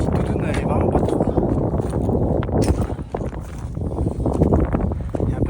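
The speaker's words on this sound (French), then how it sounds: "Il y a un peu de vent." Gusty wind buffets the microphone on a steep, cold mountain hike near Mont Mirantin in Savoie, a steady low roar with a voice talking over it.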